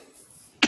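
One short, close cough near the end of an otherwise quiet room-tone stretch.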